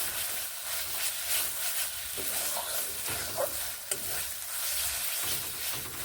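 Spices for a beans curry sizzle and hiss steadily in a hot pan, with occasional stirring scrapes and clicks against the pan, heard up close.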